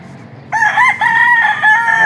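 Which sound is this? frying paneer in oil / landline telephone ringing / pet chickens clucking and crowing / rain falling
pet chickens clucking and crowing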